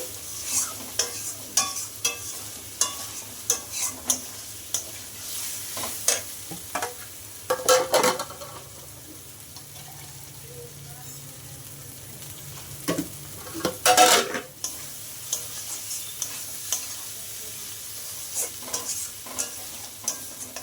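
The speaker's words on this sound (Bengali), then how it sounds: "কষানো তো তোমার হয়েই গেল এবার জল দিয়ে দেবো দেখো আমার তেল ছেড়ে দিয়েছে মশলা থেকে" Masala for a rithe fish curry fries in oil in a pan while a spoon stirs it, with a soft continuous sizzle broken by repeated scraping strokes and a couple of louder clanks against the pan.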